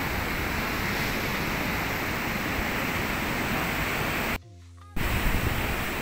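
Ocean surf on the beach at Punta del Hidalgo, Tenerife: a loud, continuous broadband wash of breaking waves, briefly cut to silence before the roar resumes.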